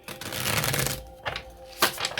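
Tarot cards riffle and slap in quick bursts, a couple of short shuffles close by with brief pauses between them.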